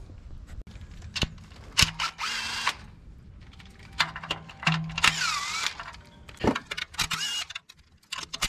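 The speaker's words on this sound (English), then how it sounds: "we're gonna take all these 20 bolts around it to get the oil pan out" A power tool spins out the bolts around the oil pan of a Toyota FJ Cruiser, giving repeated short whirring bursts with clicks and clanks between them, close by and moderately loud, no talking.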